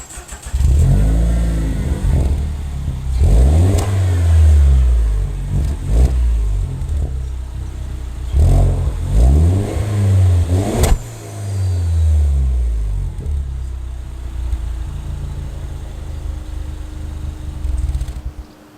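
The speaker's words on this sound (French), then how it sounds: "je vais vous faire entendre le bruit du moteur" A car engine revved repeatedly from idle, a series of loud surging rises and falls recorded close behind the car, then settling back to a steady idle hum.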